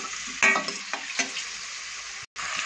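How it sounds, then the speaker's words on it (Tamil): Chopped onions sauté with rock salt in a pan while a kurma is being made, giving a steady sizzle with a few sharp stirring scrapes and a brief dropout near the end; nobody speaks. "கல் உப்பு போட்டால் வெங்காயம் வந்து வதங்கிரும்."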